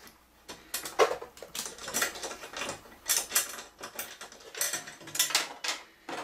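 Screw and washer being fastened into a GT Omega TV stand, a quiet run of small mechanical clicks and ratcheting turns in uneven bursts, close by with no talking.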